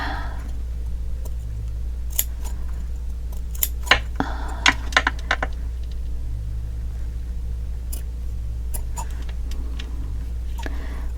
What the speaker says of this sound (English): I can cut that little corner off.